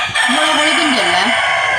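A rooster crows loudly and close by in one full, drawn-out call that rises and bends in pitch, ending in a wavering tail.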